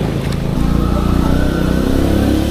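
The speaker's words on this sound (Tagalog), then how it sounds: "meron mga tricycle na kaya ng bumiyahe, ilalaban lang talaga yung makina" A motorized tricycle engine drones loud and steady as it drives through flood water, a close, rough, continuous motor rumble with sloshing noise throughout.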